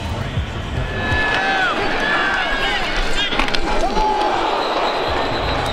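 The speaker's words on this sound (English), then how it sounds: "We've heard a couple of nice hits in this game." A hard open-field tackle lands in a 2021 Alabama vs New Mexico State college football game: a brief thud of the hit over loud, continuous stadium crowd roar, with whistles and players' voices nearby.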